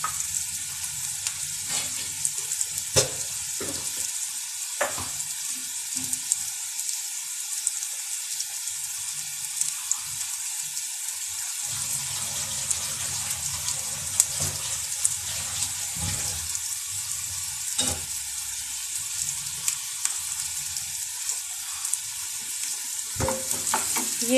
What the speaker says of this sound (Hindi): ये हाफ फ्राई हो गए हैं तो मैं इन्हें निकाल लूंगी